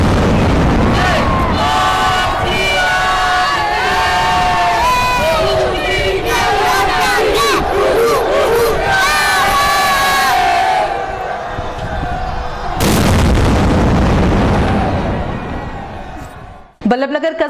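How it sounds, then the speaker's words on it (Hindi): A 21-cannon gun salute at Nathdwara temple in Rasala Chowk, heard as loud sustained crowd roar and shouting with booming blasts, a heavy burst near the end, then a sudden sharp crack. "21 तोपों की सलामी रसाला चौक में दी गई"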